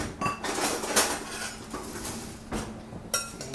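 A metal spoon clatters among dishes and pans, several short clinks and knocks at close range during a sugar-mixing step in a home kitchen, with no talking.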